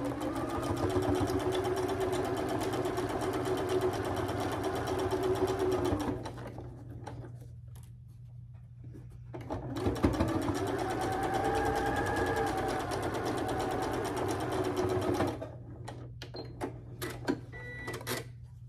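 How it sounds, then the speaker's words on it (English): Sewing machine stitching a quilt block with a fast, steady mechanical chatter in two long runs separated by a short quiet pause, close and clear. "start sewing on this side"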